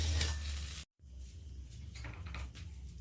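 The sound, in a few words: onion and garlic frying in a pan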